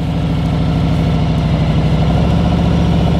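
A motorcycle engine runs steadily and close in first gear with throttle applied as the bike eases away from a stop, a loud even rumble with rapid low pulsing throughout and no talking.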